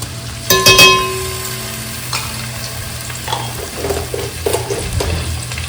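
Ginger garlic paste sizzles as it fries in a pan for a prawn biryani being cooked outdoors in a garden. A steady, close frying hiss runs throughout, with a few stirring scrapes and light clinks.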